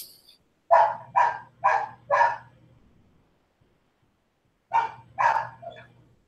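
A dog barks nearby in two loud bursts, first four quick barks in a row, then after a pause three more, with near silence between.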